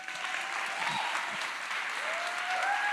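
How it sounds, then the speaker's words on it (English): Audience at a county Title IX panel discussion gives a steady round of applause for the women panelists, even and continuous throughout. "Give them a big round of applause."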